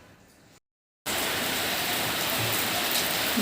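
Heavy rain pouring down in a steady, dense wash that starts abruptly after a brief silence and continues loud and unbroken.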